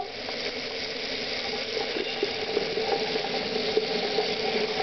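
Hot water runs steadily from a sink tap, a constant splashing hiss that holds an even level throughout.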